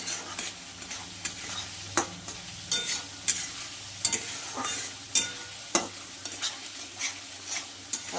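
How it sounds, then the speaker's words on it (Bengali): Spice paste with turmeric being fried and stirred in a pan for koi fish, a steady sizzle broken by repeated sharp scrapes of a spoon against the pan, close and alone. "যেহেতু কই ভোলা মাছ, আমি মশলাটা খুব সুন্দর করে কষিয়ে নেব।"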